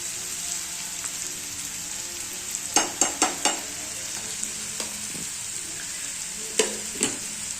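Onion frying with salt in a pan gives a steady high sizzle, with a few sharp stirring clatters around the middle and two more near the end.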